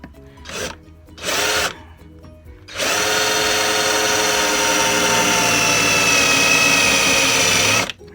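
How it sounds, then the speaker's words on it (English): A power drill whirs in two short bursts, pauses, then runs steadily for about five seconds as it bores through a metal bracket, loud and close; battery-powered. "Let's drill through that. See if it'll drill okay."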